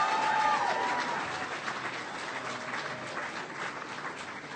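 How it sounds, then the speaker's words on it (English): An audience at a Miami, Florida political rally gives sustained applause for Senator Bill Nelson, a broad even roar of many hands clapping together, with a brief whistle or cheer near the start. "Give Bill Nelson a big round of applause."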